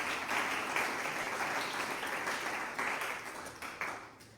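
A church congregation claps steadily for the Lord, a dense wash of many hands applauding together at a moderate distance, fairly quiet and continuous without a clear beat.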